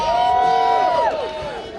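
A crowd of troops cheers and whoops at a mixed martial arts exhibition, a loud sustained roar with rising and falling shouts close by, easing off slightly toward the end.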